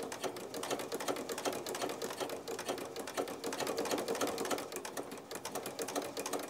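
A sewing machine runs steadily, ruffling fabric with a rapid, even mechanical stitching clatter throughout, close and moderately quiet, with no talk.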